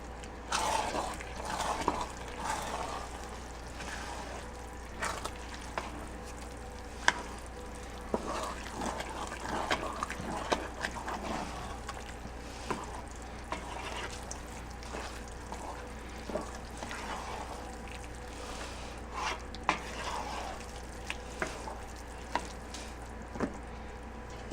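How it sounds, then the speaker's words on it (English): Risotto being stirred in a pot, with a steady soft scraping and a gentle wet bubbling that keeps going, broken by small clicks and knocks, close by and fairly quiet. "Okay, I'll mix this up."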